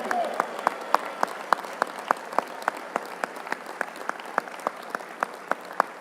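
An audience in a conference hall at the 100 Black Men Conference claps hands in a steady, evenly spaced rhythm, with sharp repeated strikes carrying through the room for several seconds.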